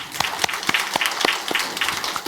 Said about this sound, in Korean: 우리 하나님께 감사의 박수 올립니다